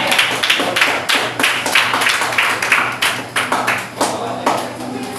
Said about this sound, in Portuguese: Receba o servo do Senhor com palmas.